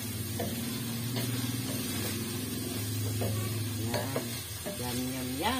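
Tofu and kangkong sizzle and hiss in a hot pan as they are sautéed, with repeated stirring scrapes and a low background hum.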